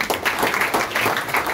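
Applause for Syah, a short burst of many hands clapping steadily at moderate loudness, with no voices over it.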